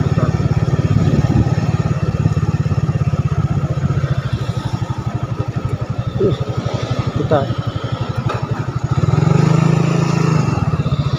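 A motorcycle engine idles steadily nearby with a fast, even putter that rises in a brief rev near the end, as people speak in the background.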